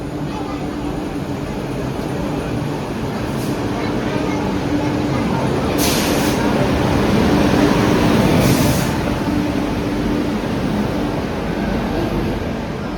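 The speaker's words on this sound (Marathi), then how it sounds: "आली आहे ट्रेन आता" A train pulls into a crowded railway station with a steady, heavy rumble that swells slightly as it nears, along with a busy murmur of people and a couple of brief high squeals.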